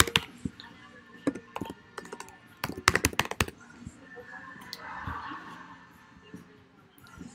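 Quick bursts of typing on a computer keyboard, close and crisp, with clustered key clicks and pauses, quieter background hum later.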